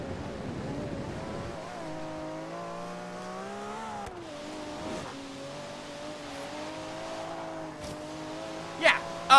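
A Ferrari's engine in the Forza Horizon 3 racing game drones steadily with harmonic revs, rising and settling through gear changes, loud and continuous, with tire noise and a brief sharper burst near the end.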